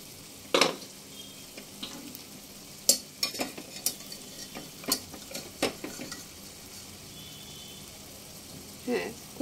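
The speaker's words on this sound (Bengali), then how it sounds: "এইভাবে 2 থেকে 3 বার জল দিয়ে দিয়ে মশলাটাকে খুব ভালোভাবে 6 থেকে 7 মিনিট কষিয়ে নিতে হবে।" Chana masala spices are stir-fried in a kadai, with a faint sizzle under scattered sharp scrapes and clinks of a spatula against the pan.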